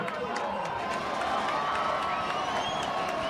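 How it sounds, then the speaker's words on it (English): A home crowd at a high school 6A second-round playoff football game between Lehi and American Fork roars with sustained cheering and shouting, a dense, steady wall of noise held for several seconds. "Home crowd gets loud."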